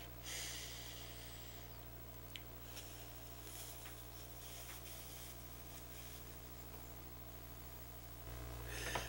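Slow meditative breathing, a long airy exhale and inhale close to the microphone over a steady low hum, calm and unhurried.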